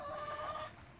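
A single chicken gives a short, close, nasal cluck of about one second, heard alone and fairly faint.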